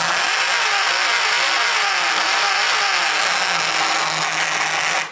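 A Traxxas On-Board Audio unit on an RC car plays a simulated engine sound: a loud, continuous engine drone with a slightly wavering pitch that cuts off abruptly at the end.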